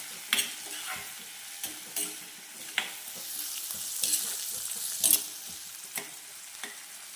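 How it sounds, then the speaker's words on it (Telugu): Amaranth leaf stir-fry cooking in a pan, a faint, low sizzle punctuated by sharp scraping strokes of a spatula every second or so, nearby with no talk. "చూడండి కొంచెం వేగిన తర్వాత కరివేపాకు వేసుకుందాం"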